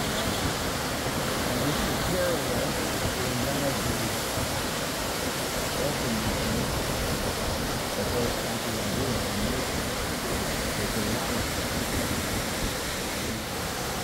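Waterfall on the Oregon coast, a steady broadband rush of falling water that holds an even, unbroken roar for the whole stretch, with no break or change in level.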